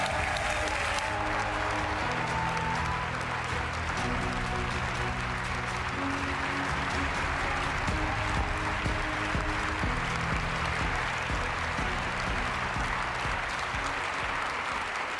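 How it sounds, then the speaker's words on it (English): Congress audience applauding at a European People's Party gathering in Valencia, a dense steady roar of many hands clapping for the full stretch, loud and continuous with crowd murmur underneath. "please welcome, with a big round of applause, the president of Partido Popular"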